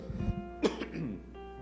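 A single person coughs a few times, a short rough burst close by, with a faint background hum.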